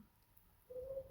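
A soft, low, steady coo from a distant bird, faint against quiet background hiss.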